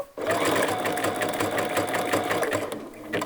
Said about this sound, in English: I'm going to turn it so I can go down this edge here and just begin stitching.